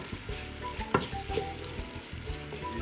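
Onions browning in oil for chicken haleem, a crackling sizzle close up with the scrape and knock of a spoon stirring, a couple of sharp clinks standing out.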